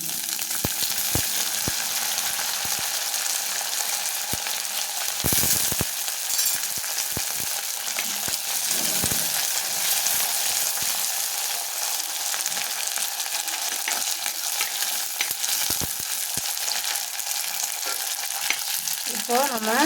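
Curry leaves fry in hot oil with a loud, continuous crackling sizzle, punctuated by occasional stirring scrapes, close up with no voices.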